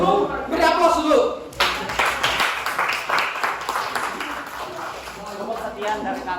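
Classroom audience applause after a student presentation on fish-rearing tank design: scattered clapping breaks into a dense patter of many hands, with voices speaking over it at the start.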